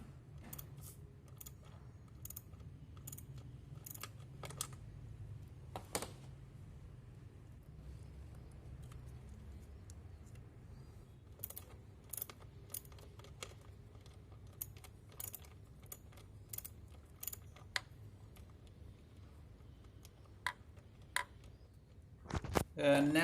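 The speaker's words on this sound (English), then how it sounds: "Now we unscrew the bolt by the socket wrench and disconnect the wire." Socket wrench working a MAP sensor bolt loose on a Peugeot 206, sparse sharp metallic clicks and ratchet ticks scattered irregularly over a low steady hum, close and fairly quiet, with no talking.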